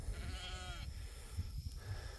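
Flock of sheep being moved to fresh pasture, several bleats overlapping at close range over steady outdoor rumble, one long wavering call standing out early on.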